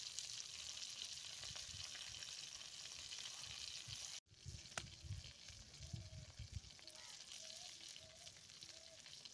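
Eggplant frying in a pan over a clay stove, a steady close sizzle and crackle of oil that briefly cuts out midway and then resumes with spattering pops.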